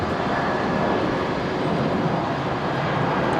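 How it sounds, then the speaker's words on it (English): A Jetstar Airbus A320 begins its takeoff roll at Brisbane airport, a heavy, steady broadband engine roar that fills the whole stretch without letup. "All right, Jetstar 821's rolling. This 320 heading to Sydney."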